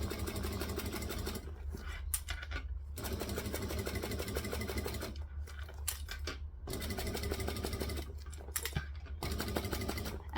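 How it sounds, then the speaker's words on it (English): A sewing machine stitches a bag seam an eighth of an inch from the edge, running in steady bursts with short pauses between, close and fairly quiet. "And I'm stitching at 1/8 of an inch."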